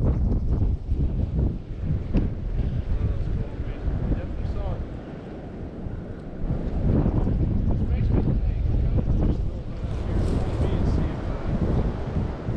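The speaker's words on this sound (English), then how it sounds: "the wind blowing so hard I can't get it where I want to be" Strong wind buffets the microphone at a Kansas lake while fishing from a boat, a loud, continuous low rumble with gusts surging and easing throughout and water sloshing beneath, with voices briefly heard under it.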